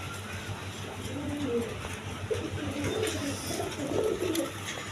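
Pigeons of Indian Nazrana Kaldam and Giribaz breeds coo in a low, steady murmur of overlapping calls throughout, fairly close, over a constant low hum.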